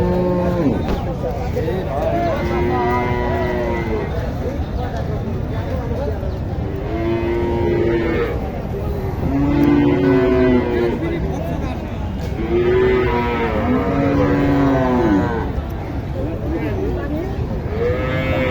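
Sahiwal cattle at a busy cattle market moo repeatedly in long, drawn-out calls over a constant crowd murmur and background chatter.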